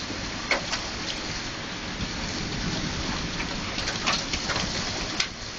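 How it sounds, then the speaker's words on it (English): Big hailstones pelting down in a heavy storm, a constant roaring hiss punctuated by irregular sharp cracks of larger stones hitting nearby surfaces, with no speech. "Ooh, big hail."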